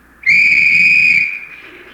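A single loud, sustained signal whistle blast rings out alone for about a second, then tapers off, heard in a comedy radio show.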